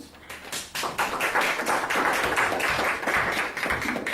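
Applause at a city meeting, with a room of people clapping steadily and fairly close for several seconds after a short quieter start.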